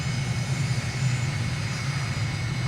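A simulated airplane engine in a flight simulator game drones low and steady as the throttle comes back at touchdown on a crosswind landing in the Abacos, Bahamas, a close, continuous rumble with no talk.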